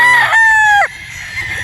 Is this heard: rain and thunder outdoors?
no